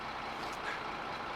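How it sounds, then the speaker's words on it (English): Low, steady rumble of a lorry engine idling some distance away in the background outside an office, constant and even through the short stretch with no other sounds. "I hope that lorry engine is not too loud in the background"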